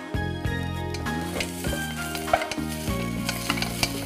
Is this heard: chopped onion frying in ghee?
yes